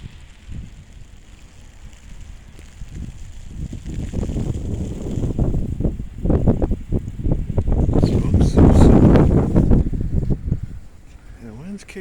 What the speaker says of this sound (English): the wind's kicking up, but not